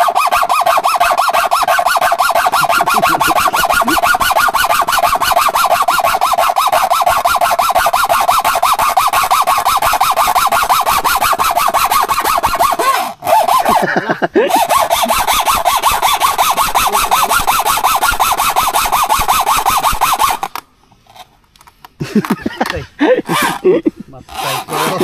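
Steady, fast handsaw strokes cut through wood for a hanging tree house outdoors, loud and continuous for about twenty seconds before stopping, followed by a few scattered knocks.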